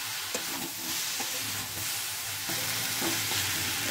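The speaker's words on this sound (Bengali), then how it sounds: "এবার আসল জিনিস সেটা হচ্ছে ধনেপাতা ছড়িয়ে একটুখানি নেড়ে চেড়ে নামিয়ে দেবো।" Cooked flat beans and potatoes stirred with scattered coriander leaves in a pan, a dense close sizzle with rhythmic scraping strokes throughout, no talk.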